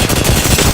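Gunfire in Apex Legends cracks out as a loud, dense burst of rapid automatic shots lasting under a second.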